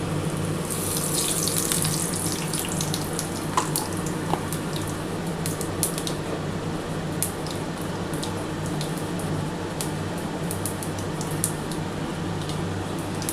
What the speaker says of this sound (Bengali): আমি কিন্তু সামান্য অল্প একটু গোটা জিরে ফোড়ন দিলাম।